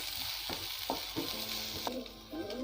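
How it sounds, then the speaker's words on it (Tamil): Long-sliced onions fry in a pan with a steady sizzle while a spoon stirs them in several distinct scraping strokes, close and clear, with no voices. "வெங்காயத்தை நல்லா ஃப்ரை பண்ணிக்கோங்க."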